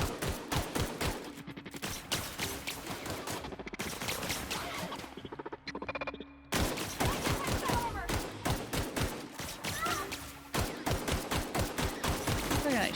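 Rapid bursts of gunfire from the video game The Outer Worlds, loud and dense, with repeated shots in quick succession, a short quieter lull midway, then more volleys.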